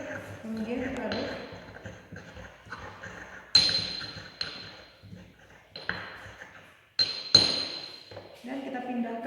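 Ground kenikir flowers being stirred with alcohol in a container, giving sharp glassy clinks and scraping taps at irregular intervals, two louder ringing strikes standing out, close by with faint background noise.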